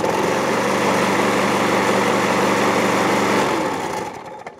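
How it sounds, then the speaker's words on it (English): A Hayter 56 lawn mower engine runs loud and close with a steady buzzing drone and a rattle from the recoil starter, then drops off sharply near the end. "That rattling noise is that recoil."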